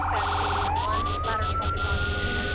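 A fire truck siren in the video game Firefighting Simulator: The Squad wails loudly and continuously, its pitch sweeping up and holding steady over a low engine rumble.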